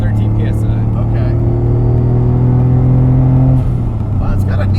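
A modified 1995 Mitsubishi 3000GT VR4 with an HKS exhaust pulls hard uphill under boost, its loud, close engine drone climbing steadily in pitch before easing off near the end.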